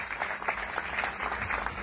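Steady applause from an audience at a political rally in Gondal, continuous dense clapping at moderate distance throughout, with no talk over it.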